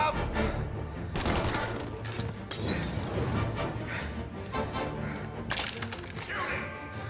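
Repeated sharp gunshots in a shootout in Mafia Definitive Edition, with bursts of cracks and volleys coming close and loud in irregular clusters against a busy combat background.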